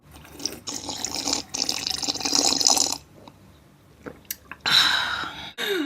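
A voice imitates an old lady slurping hot coffee, producing wet, hissing slurps and sucking noises in several bursts with short pauses between, close and fairly loud.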